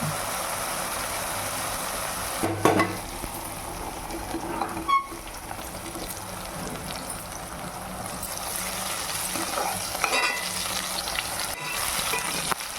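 Chicken and onions fry in a pan for a home chicken fry, a steady close sizzle with occasional stirring scrapes and clatters, no one speaking.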